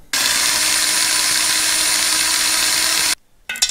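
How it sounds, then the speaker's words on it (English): A power drill whines at a steady high pitch for about three seconds, close and loud, drilling metal on a Caterpillar D2 pony engine block, then cuts off abruptly before a short clatter. "First we drill."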